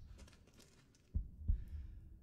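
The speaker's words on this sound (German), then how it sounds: "Es hat einen Puls." Heartbeat pulse of a baby in the Resident Evil Village video game, two deep, close thumps about a third of a second apart after a quiet, hushed stretch.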